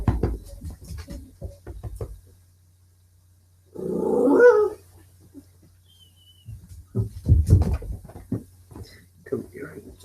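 Puppies whimper in a short high-pitched burst midway, between stretches of a person talking nearby, close and moderately loud.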